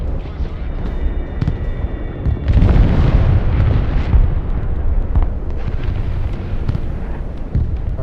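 A heavy bomb blast in a video game erupts with a deep, loud boom that rolls into a rumbling, crackling tail, with scattered smaller impacts and faint voices underneath.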